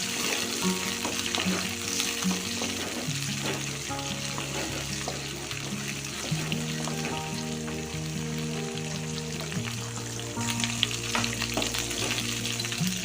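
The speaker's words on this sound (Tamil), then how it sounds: "கருவேப்பிலை, 2 பச்சை மிளகாய், சேர்த்து இதை வதக்கிடலாம்." Small onions, curry leaves and two green chillies sautéing in a pan for hotel-style sambar rice: steady close sizzling and frying with clinks and scrapes of stirring throughout, no talk.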